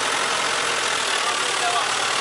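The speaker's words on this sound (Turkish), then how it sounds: "Kendinden geçiyor traktör." A turbocharged tractor engine runs hard, giving a loud, dense, steady roar with no pauses.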